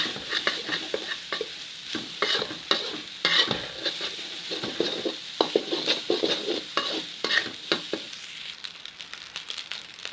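A spatula scrapes and stirs nasi goreng (Indonesian fried rice) with shredded chicken in a hot pan, repeated clattering strokes over a continuous sizzle, close and fairly loud.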